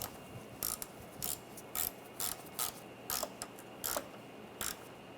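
A ratchet wrench snugs down a screw on a BMW 328i xDrive radiator, clicking in short, regular bursts of rapid pawl ticks, close and fairly quiet, with no talking.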